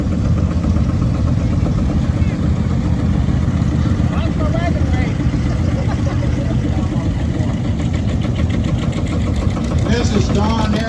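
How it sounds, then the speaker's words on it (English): A small cross-mounted lawnmower engine idles at a vintage tractor show, a steady, close, unbroken engine drone with crowd chatter running faintly underneath. "It's a lawnmower."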